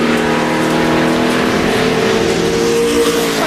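A race car on a qualifying lap at Gateway in 2009, its engine a loud, sustained roar with a steady high pitch that shifts slightly as it runs past, close and continuous with no talking.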